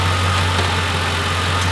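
A Ford F-150 Harley-Davidson edition with a 5.4-litre V8 and standard exhaust idles close by, giving a steady, deep and even rumble that holds throughout without any voices.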